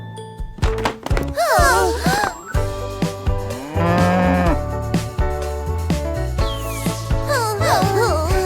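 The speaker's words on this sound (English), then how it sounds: "the cow says moo" A cow moos several times in a children's farm-animal cartoon, loud drawn-out lowing calls separated by short thunks and musical sounds.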